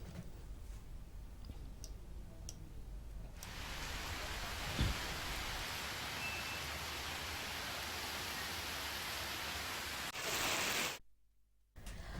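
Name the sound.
heavy rain falling in Hyderabad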